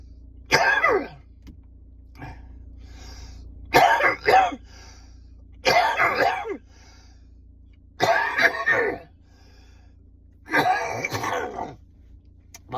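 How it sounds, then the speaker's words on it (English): A person coughs hard in five separate bursts spaced a couple of seconds apart, each a harsh, throaty fit close to the mic, with a low steady hum filling the quiet gaps between them. "Well, that was my coughing fit I had this morning before I went to work"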